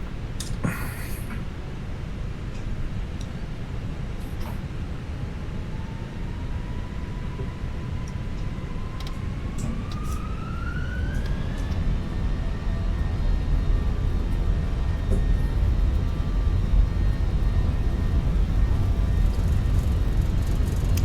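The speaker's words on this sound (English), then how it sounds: "we're gonna go ahead, commence our takeoff roll" Simulated Fenix Airbus A321 jet engines spool up for a takeoff roll in Microsoft Flight Simulator 2024, a steady broadband roar that swells louder as a rising turbine whine climbs in pitch, with faint clicks near the start and no talking.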